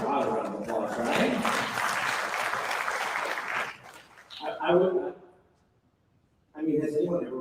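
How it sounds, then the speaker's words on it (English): Church congregation applauding in praise of God, a broad sustained wash of clapping for several seconds that fades into a voice speaking, then another short burst of noise near the end. "let's give God a round of applause"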